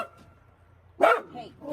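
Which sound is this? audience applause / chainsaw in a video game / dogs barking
dogs barking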